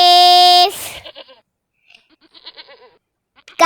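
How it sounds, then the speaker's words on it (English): A sheep gives a loud, close, wavering bleat, then fainter murmuring sounds, and a second loud bleat begins at the very end. "sheep"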